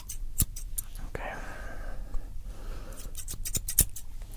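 Scissors snipping hair during a close-up ASMR barber haircut, crisp scattered snips near the ears, with soft whispered talk between them.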